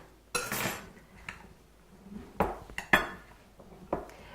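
A spoon stirs and scrapes through apple fruit salad in a bowl, giving a few distinct clinks and clatters against the dish with quiet gaps between, close and fairly loud, no talking.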